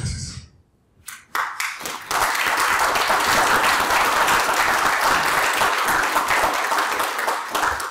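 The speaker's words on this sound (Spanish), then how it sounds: "licenciado Colón, es poco el aplauso que dieron" An audience applauds at a theology lecture after a speech ends: a few scattered claps swell into loud, steady, dense clapping that carries on to the end.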